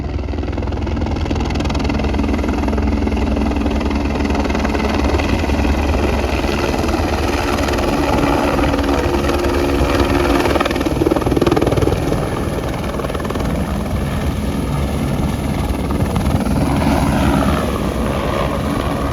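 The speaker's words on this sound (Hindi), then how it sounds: "हर 10 मिनट में मैं देख रहा हूँ कि हेलीकॉप्टर आता रहता है" A helicopter's rotor and engine roar steadily and loudly throughout, close by at a helipad on the Kedarnath route in Uttarakhand, with a constant chopping drone.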